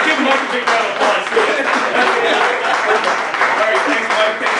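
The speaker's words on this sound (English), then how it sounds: "Give Mike a big round of applause." Audience applause at a corporate comedy and mind-reading show, a steady wash of many hands clapping for several seconds with murmured voices and talk mixed in.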